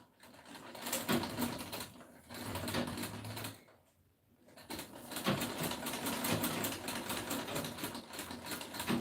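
A sewing machine running in short bursts for back stitching on a dress, a rapid mechanical needle rattle with a brief pause in the middle, close and moderately loud.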